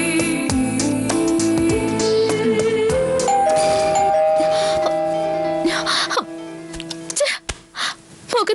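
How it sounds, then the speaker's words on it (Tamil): A doorbell chimes over background music in a Tamil TV drama scene, with several bright tones ringing out while voices are heard briefly. "காலிங் பெல் அடிச்சு என் கனவை கலைச்சிட்டாங்க"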